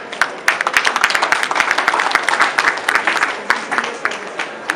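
An audience at a trade event bursts into applause, many hands clapping in a steady, lively patter that swells and then thins out toward the end.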